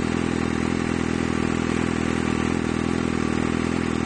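Kawasaki Ninja ZX6R 636 fitted with an M4GP slip-on exhaust, idling close by with a loud, steady, continuous rumble and no change in pitch.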